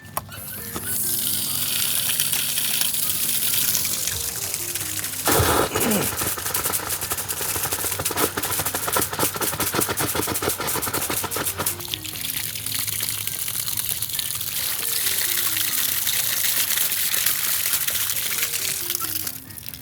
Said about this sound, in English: So now I'm gonna go to the hose bib, open it up and flush it out.